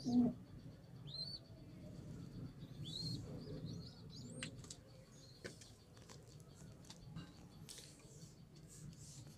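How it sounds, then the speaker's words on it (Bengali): Pigeons coo softly inside their loft, low murmuring calls mixed with scattered chirps and occasional sharp clicks and rustles over several seconds. "সব পায়রা ঘরেই রয়েছে"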